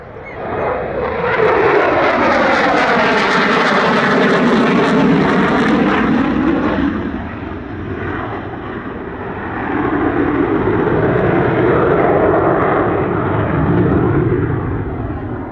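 A Malaysian F/A-18 Hornet fighter jet roars past at the LIMA Langkawi 2023 airshow, a loud, sweeping jet howl that swells, falls away briefly, then builds again as the aircraft returns.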